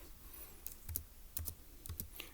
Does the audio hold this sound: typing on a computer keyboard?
yes